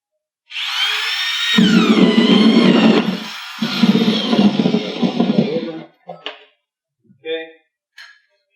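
A power drill whines loudly as it bores through sheet-metal ductwork during a plenum takeoff installation, one sustained run of about five seconds followed by a few short bursts, with no talking.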